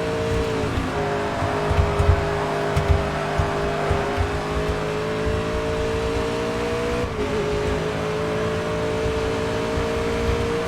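A race car's engine drones steadily at high revs on a track in TOCA Race Driver 3, with slight pitch dips around gear changes and corners and faint tyre noise, no talking.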